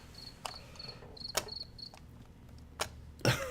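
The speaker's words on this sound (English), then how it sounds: "Crickets." Crickets chirp in short, high, repeated trills with gaps between bursts, set against a quiet background broken by a few sharp clicks and taps.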